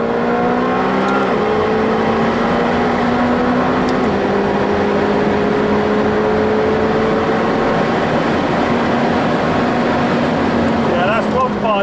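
A McLaren 720S pulls hard under acceleration, its engine note climbing in long rising sweeps from inside the cabin, with a faint voice now and then beneath the roar.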